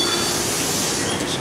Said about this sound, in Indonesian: Seri Tokyo Metro 6000. Kita naik teman-teman.